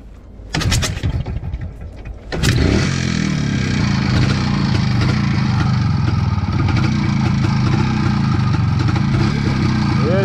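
An Izh Planeta 4 motorcycle cranks in a few short sputtering tries and then catches at about two and a half seconds. It settles into a loud, steady, close running note that holds to the end, with brief voices during the early attempts.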